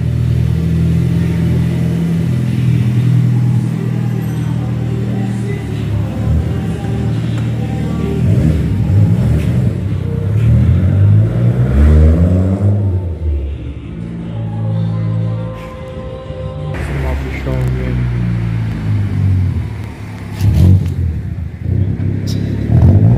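A lowered car on a test drive, its engine revving up and down in repeated swelling surges over a constant road rumble, loud and close, with a few brief voices in places.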